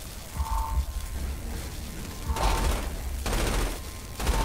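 Gunfire in Saints Row IV crackles as a continuous noisy barrage with bursts of automatic shots and brief tonal whines, loud and busy throughout with no clear speech.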